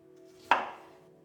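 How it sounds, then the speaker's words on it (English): A single crisp knife stroke through cauliflower on a cutting board, separating it into bite-sized florets for Punjabi-style pickled vegetables, heard close and alone against a quiet room. "Here we're chopping the cauliflower in bite-sized florets."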